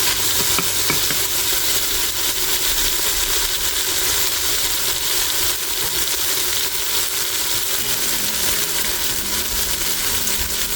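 Cabbage and sausage in an Instant Pot sizzle steadily and loudly while being stirred, with scraping and clinking of a utensil against the pot throughout and no talking.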